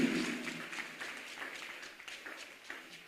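A church congregation applauding and clapping for Jesus during a service, a soft, fairly distant patter of hands that fades gradually over a few seconds.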